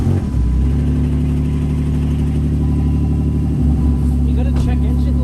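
A Jeep Wrangler JK engine runs and revs steadily while the vehicle sits stuck in snow and mud, a continuous close rumble with a slight rise near the middle, while people talk over it.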